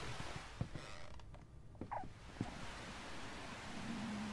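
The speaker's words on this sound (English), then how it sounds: "It's making squeaking noises." Faint squeaks and creaks in a horror video game, a few short creaking sounds scattered over a low, steady ambient hiss, with no voices.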